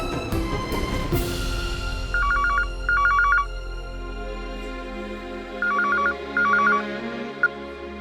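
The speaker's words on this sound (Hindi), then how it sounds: "जोया के लिए फोन है।" A telephone rings in a home during a Hindi TV drama scene, four bursts of an electronic double-trill ring in two pairs, loud and clear over a low steady background hum, with no talking.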